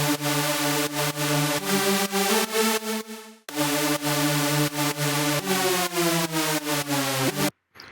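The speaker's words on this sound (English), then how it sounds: "this is a like super saw preset that I use a lot from Splice" A detuned supersaw synth preset from Splice, 8 and 16 voices with LFO-wobbled detune, plays loud sustained chords in a steady rhythmic pattern, cutting out briefly midway and again at the end.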